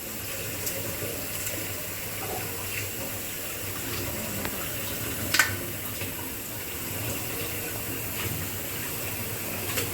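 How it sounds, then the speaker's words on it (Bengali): Raw chicken pieces being washed under running tap water, a steady close splashing flow with a brief louder splash midway, and no talking. "চিকেনগুলো একদম ফ্রেশ করে ধুয়ে"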